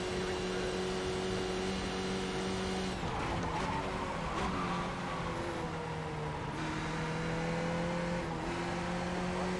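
An iRacing race car runs at steady high revs with a constant engine drone. Partway through the tone shifts as the throttle opens, under faint tire noise.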